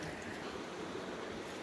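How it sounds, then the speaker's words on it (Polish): A cold mountain stream flows at the foot of Rysy in Slovakia, a steady broadband rush of water running continuously and close. "To był najzimniejszy potok, w jakim moczam nogi"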